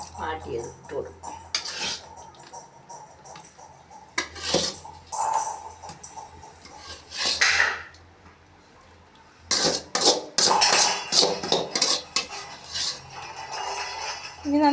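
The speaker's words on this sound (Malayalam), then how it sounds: "ഇനി നന്നായിട്ട് ഇളക്കണം അല്ലേ?" Prawn curry being stirred in a clay pot, with repeated scraping and clinking bursts of a utensil against the pot, close and fairly loud, broken by short pauses.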